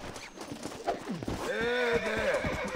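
Horse in a video game, being broken, neighs in a long wavering whinny over a steady run of hoof clops, all fairly close and loud without talk.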